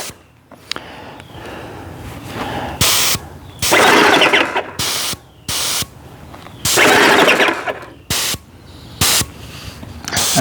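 A Titan 1700 airless paint sprayer runs while spraying paint, giving a steady hiss broken by repeated loud bursts as the pump cranks up every second or so, heard close up without talk.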